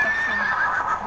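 A horse neighs in a Polish radio drama set at a summer campsite, a loud close whinny with a wavering high pitch and no voices over it.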